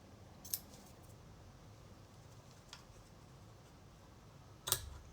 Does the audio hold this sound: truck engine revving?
no